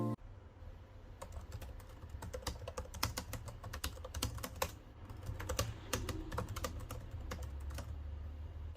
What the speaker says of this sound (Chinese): 如果你和我一样也很在意键盘的使用手感，那相信这块键盘不会让你失望